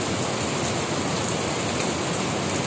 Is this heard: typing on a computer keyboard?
no